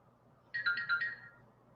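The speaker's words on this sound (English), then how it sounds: "phone is going off, so I'm trying to turn it down" A mobile phone ringtone goes off, a short melodic electronic chime of a few quick notes, fairly faint against a quiet room.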